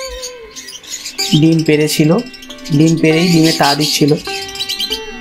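Pineapple conure parrots chirp in quick repeated bursts of short, bright calls, close and fairly loud, mixed with someone talking.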